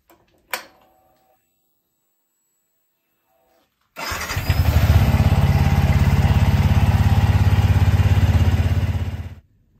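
A Yamaha XSR 125 motorcycle starts up after a short click and silence, then idles with a steady, close, even single-cylinder putter for about six seconds before cutting off.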